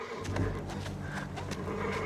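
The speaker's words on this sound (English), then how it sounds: "You spooked my horse!" A spooked horse neighs and whinnies over a steady low rumble, with faint clip-clop of hooves and no speech.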